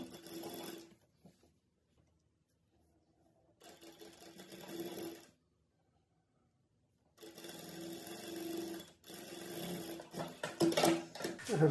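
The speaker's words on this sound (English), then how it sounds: "We'll put a stitch here in both the shoulders." A sewing machine stitches the shoulder seams of a saree blouse in short bursts of steady, close whirring, separated by quiet pauses, with a longer final run that speeds up near the end.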